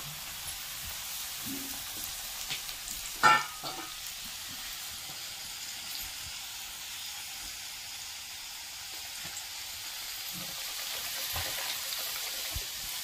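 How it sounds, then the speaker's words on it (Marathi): Chips fry in hot oil with a quiet, steady sizzling hiss, broken by one brief clatter of a utensil early on; no one speaks. "आता हे तेल गरम झालं, आता तेलामध्ये चिप्स टाकून देऊ।"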